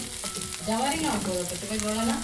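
Capsicum frying in a little oil gives a steady, close sizzle with some wavering tonal sounds running through it, and no voices.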